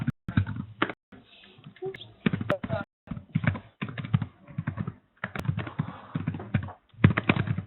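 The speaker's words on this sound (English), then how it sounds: "I love that you're typing." Fingers type steadily on a computer keyboard, the clicks loud and close in uneven bursts with short pauses between them.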